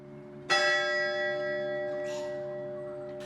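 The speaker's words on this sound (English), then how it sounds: "At Longford, the bells tolled." Church bell at Longford tolling once, a sudden loud strike followed by a long, slowly fading hum of ringing overtones.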